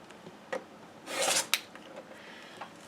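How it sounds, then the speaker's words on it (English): A blade drawn along a ruler through excess quilting fabric on a paper-pieced pig's tail block, a soft rasping stroke lasting a moment, bracketed by a few small light taps and clicks. "trim up the excess fabric, making sure that I cut on the dotted line"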